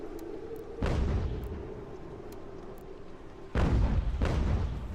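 Cannons fire in Ultimate General: American Revolution, two heavy booms a few seconds apart over a steady low battlefield rumble, with faint distant shots in between and no talking.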